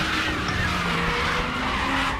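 Race car tyres skidding from a locked front right wheel in a Group C/Group 5 multiclass race at Norisring in RaceRoom, a loud continuous scrubbing hiss over engine roar throughout.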